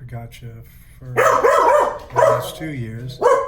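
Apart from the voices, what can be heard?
dogs barking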